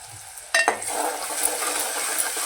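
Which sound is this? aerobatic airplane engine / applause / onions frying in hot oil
onions frying in hot oil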